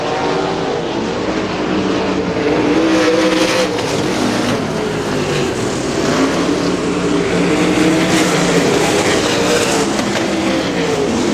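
Winged and non-winged sprint cars race on a dirt track, engines roaring loudly and continuously as several cars pass and rev, with no talk over the din.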